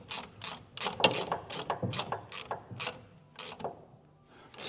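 A ratchet wrench tightens a lock nut on the body bushings of a Pontiac Trans Am under restoration. About a dozen crisp, close clicking strokes come in quick bursts, then a pause and a few more.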